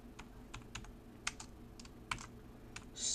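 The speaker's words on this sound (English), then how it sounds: "I'm going to type" Light, scattered keystrokes tap on a computer keyboard, irregular and fairly quiet against a soft background hum, with a brief louder rustle at the very end.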